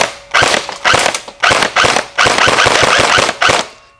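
A KWA T10 airsoft rifle with a 350 FPS spring fires on full auto in several close, loud bursts of rapid clattering shots separated by brief pauses.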